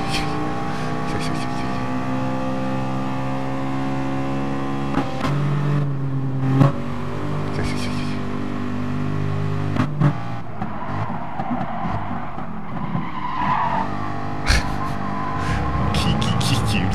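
High tyre squeals from a car following behind during a circuit race in a video game, repeating over a steady engine drone, with a voice talking throughout.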